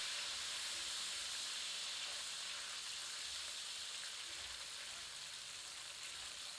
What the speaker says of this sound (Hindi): इसे 1 मिनट धीमी आंच पर भूनते हैं